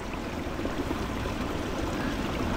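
Fresh water rushes along a stream in a steady, close wash of splashing and gurgling that holds at an even level without pause and without voices.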